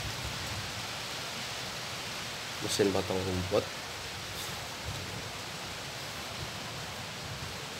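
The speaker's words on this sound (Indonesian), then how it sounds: "abaikan suara hujan di luar sama geledeknya ya, karena sekarang lagi hujan" Steady hiss of rain falls outside throughout, with a short burst of talking and a brief mechanical hum in the middle.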